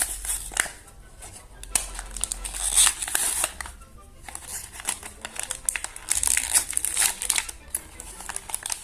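Disney Tsum Tsum squishy, the White Rabbit from Alice, being unwrapped from its plastic package, with close crinkling and rustling bursts and light tearing scattered irregularly through the clip.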